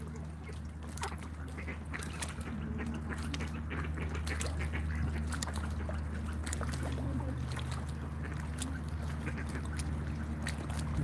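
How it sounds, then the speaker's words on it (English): Group of ducks quacking and honking outdoors behind the speakers, a continuous chorus of sharp, repeated calls over a steady low rumble. "some noisy ducks behind us"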